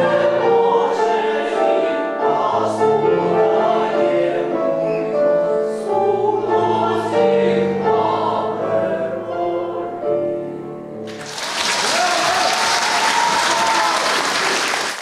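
Audience applause breaks out in a concert hall after a vocal quartet of two music-school students and two teachers sings at a teachers' anniversary concert; loud, dense clapping arrives abruptly near the end after sustained harmonized singing.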